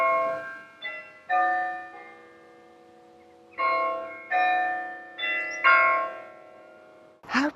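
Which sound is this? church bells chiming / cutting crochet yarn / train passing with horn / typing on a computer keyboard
church bells chiming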